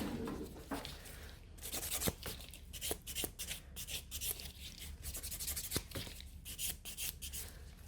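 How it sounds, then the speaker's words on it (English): A buffer rubs across a gel nail in quick, close, faint scratchy strokes, repeated steadily with brief pauses between passes. "I'm just buffing this nail till it is all perfect"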